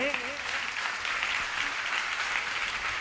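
Steady, sustained applause from an assembled audience at a Jain monk's initiation anniversary ceremony in Tikamgarh, Madhya Pradesh, a dense even clapping lasting the whole stretch after a brief voice at the start.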